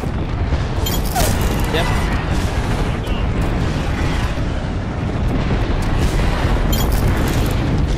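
Airstrike explosions from Gibraltar's Defensive Bombardment in Apex Legends, a dense, continuous rumble of booms layered with gunfire bursts throughout, loud and close, with a player speaking briefly over the barrage.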